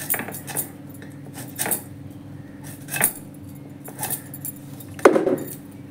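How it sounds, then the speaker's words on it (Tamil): Knife slicing through a ripe raw mango, giving crisp cutting and snapping clicks at irregular intervals, with one sharper crack near the end, close and fairly quiet over a steady low hum. "நல்லா விளைஞ்ச காய் நம்ம கட் பண்ணும்போதே அப்படியே உடஞ்சி வருது பாருங்க"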